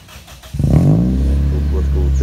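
A Toyota Vios engine cranks and fires up, settling into a loud, deep, steady idle through the exhaust, with a voice talking over the start.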